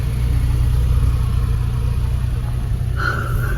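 A car driving along a narrow road in Italy, with a steady low engine rumble and road noise throughout and a brief higher tone entering near the end.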